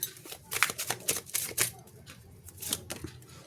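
Tarot cards shuffled and drawn from a deck during a reading, a run of quick papery riffles and slaps in uneven bursts, close and moderately loud.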